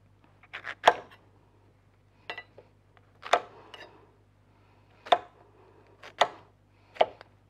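Vegetables being chopped into large pieces with a knife on a board while a beef-with-orange dish is prepared; about seven sharp, close chops in uneven bursts with quiet pauses between and no talking.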